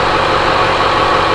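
Car engine running steadily right after a jump start, a loud, continuous close drone with no talking.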